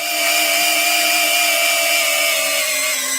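A 10.8 V cordless drill running at slow speed, a loud, steady motor whine with constant tonal hum, close up and uninterrupted.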